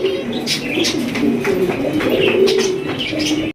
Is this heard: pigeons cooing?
yes